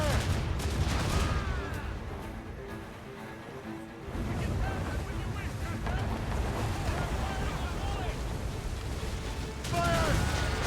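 Naval cannon fire from a sailing ship battle in the video game Assassin's Creed Rogue, a dense rumbling fusillade over ocean waves and wind, with a brief lull before the bombardment resumes, voices shouting now and then.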